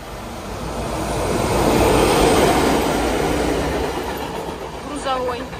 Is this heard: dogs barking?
no